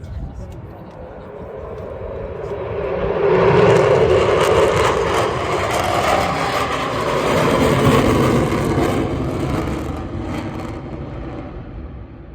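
Military jets take off on a flight line at full afterburner, a loud broad roar that swells around the middle and stays heavy to the end, with people talking over it.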